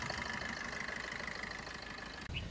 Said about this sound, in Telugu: ఇంజన్ అయితే చాలా స్మూత్ కూడా ఉంది